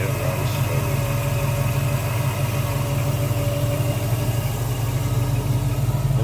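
A 1939 Chevrolet Master Coupe street rod, fitted with chrome headers, an Edelbrock intake and MSD ignition, idles with a loud, steady, smooth low rumble that stays even throughout.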